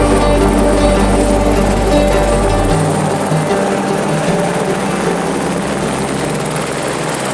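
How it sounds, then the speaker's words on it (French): A loud helicopter drones continuously nearby over the Mafate cirque on Réunion Island, with a deep, pulsing rotor thump that eases slightly partway through. "Dans Mafat, on croise beaucoup d'hélicoptères."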